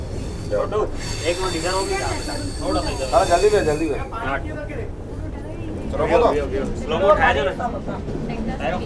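A Vistadome train running on the scenic Visakhapatnam–Araku mountain route, its wheels squealing and rumbling steadily and loudly throughout, with voices talking over the clatter.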